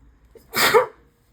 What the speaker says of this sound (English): And get that sneeze out.